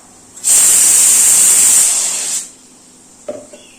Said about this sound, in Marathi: तोपर्यंत हे मिक्सरला लावून घेते